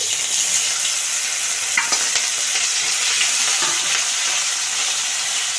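Crab pieces fry in hot mustard oil with black mustard seeds, giving a loud, steady, hissing sizzle with occasional small pops and stirring clicks throughout.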